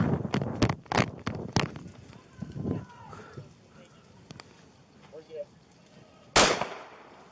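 Sharp gunshots ring out in a police body-cam shootout, a quick burst of cracks early on followed by scattered reports and one loud final shot, with voices talking between them.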